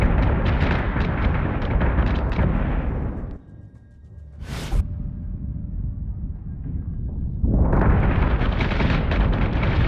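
Ship guns firing with explosions in a space battle in Battlestar Galactica: Deadlock, loud dense blasts that break off into a brief lull with one sharp whooshing burst, then heavy fire resumes.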